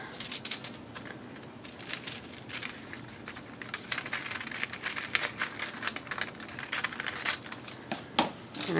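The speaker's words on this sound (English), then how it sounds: "I think I'll just cut it with scissors" Crisp snipping and rustling of paper being cut, a steady run of small clicks and crinkles, close and quiet with no voices.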